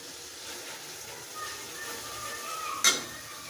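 Ground spices with green chillies stir-fried in a pan for a thin rohu fish curry with capsicum stems, a soft steady sizzle with a sharp clink of a spoon against the pan near the end.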